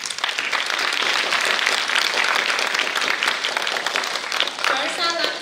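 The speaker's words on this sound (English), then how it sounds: "Please give all the speakers a round of applause." A crowd applauds loudly and steadily at a speaker event, dense clapping filling the whole stretch, with a few voices and a brief cheer mixed in near the end.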